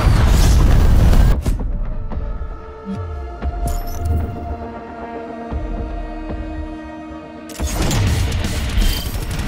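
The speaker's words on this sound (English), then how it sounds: "Cruise missile incoming." Heavy booms from a cruise missile strike in Black Ops Cold War during a Team Deathmatch match on the Slums map: a loud rumbling blast opens, then a quieter humming stretch, then another deep, roaring explosion swells near the end.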